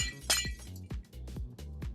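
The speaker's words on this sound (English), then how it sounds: "I'm going to place glass there, and glass there," Glass blocks being placed in Minecraft, a series of about seven sharp, close clinking taps in an uneven rhythm with short gaps between them, heard alone without talk.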